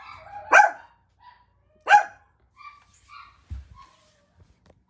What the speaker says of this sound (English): She's just gonna bark. As chihuahuas do.